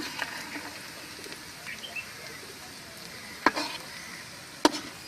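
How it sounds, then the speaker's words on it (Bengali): Chopped onions frying in a little oil, a low steady sizzle with occasional stirring clicks and two sharper knocks, close and quiet with no speech. "সামান্য পরিমাণ তেল দিন এবং পেঁয়াজ কুচি ছেড়ে দিন। কিছুক্ষণ পেঁয়াজ ভেজে নিন"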